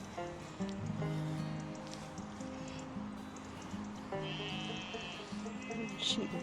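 Sheep bleating in the open countryside near gardens and a church, several wavering calls over a few seconds at moderate distance, with soft background noise and occasional faint voices.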